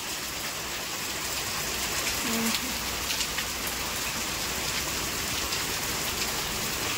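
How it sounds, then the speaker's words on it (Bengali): Heavy rain pouring down in a dense, steady hiss with constant drumming on surfaces, loud and unbroken. "বাইরে তো প্রচন্ড জোরেই বৃষ্টি হচ্ছে"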